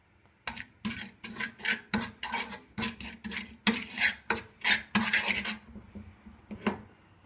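A spoon stirs semolina dry-roasting over a low flame in a pan, scraping and rasping against the metal in a steady run of repeated strokes, close and fairly loud, with no one talking.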